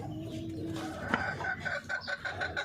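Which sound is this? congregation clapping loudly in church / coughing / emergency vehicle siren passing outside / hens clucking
hens clucking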